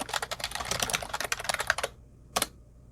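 Fast, close typing on a computer keyboard, a dense run of light key clicks for about two seconds, then a pause and one last short burst of keystrokes.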